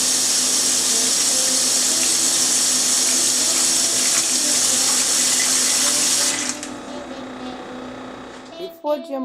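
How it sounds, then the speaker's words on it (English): Water running from a tap into a cooking pot in preparation for pig's feet, a loud steady gushing hiss that cuts off after about six seconds, followed by faint drips and a quieter gurgle and clink from the pot. "You're going to add your water and get ready to put your pot on the stove."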